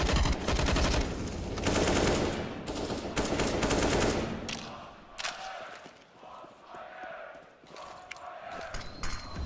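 Counter-Strike gunfire through smoke on the Train map in a professional IEM Katowice match: loud sustained automatic bursts that fade into scattered shots and game noise, with faint commentary underneath.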